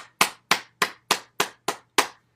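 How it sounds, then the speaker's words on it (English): During a qigong practice, hands clap seven times in a slow, even rhythm, each clap sharp and close with a brief decay and silence between. "All right, clap."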